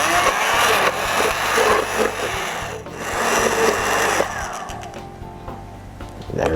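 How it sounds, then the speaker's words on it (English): Stick blender whirring through a thin potato mixture in a home kitchen, a close, buzzing motor that rises and dips as it works, then cuts out near the end. "we're going to use a stick blender for this to blend it together."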